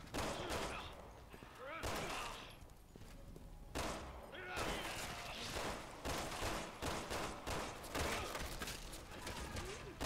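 Rapid bursts of gunfire in the video game Resident Evil 6, dense repeated shots and volleys filling the scene with brief pauses between, with a voice talking over parts of it.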